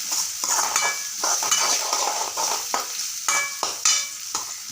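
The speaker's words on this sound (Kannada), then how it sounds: "ಈಗ ಇದನ್ನ ಕಲರ್ ಬರೋ ತನ ಫ್ರೈ ಮಾಡ್ಕೊಂಡು ಬಂತ್ರಿ." Chopped onions frying with cumin seeds in a pan, a steady close sizzle broken by repeated scraping stirs and light clinks of a utensil against the pan.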